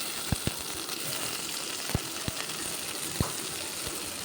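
Onions and tomatoes sauté in a pan with curry leaves, a steady soft sizzle broken by a few sharp ticks and clicks of a utensil against the pan.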